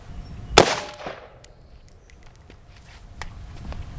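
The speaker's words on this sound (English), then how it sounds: "All right, shot it dead center." A single sharp gunshot from a Hornady TAP defense round fired into thin, lightweight body armor, loud and close, followed by a ringing decay and a few faint clinks and light handling noises.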